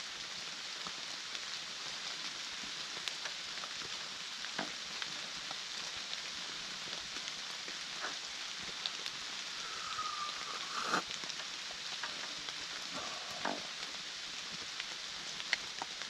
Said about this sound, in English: The rain was coming down so heavy down there